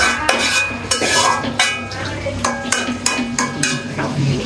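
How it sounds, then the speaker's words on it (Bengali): Country chicken meat being braised in a pot, with repeated sharp scraping and clanking of a utensil against the metal pot over a steady sizzle, close and fairly loud, faint background voices. "মাংস কষানো হইতেছে"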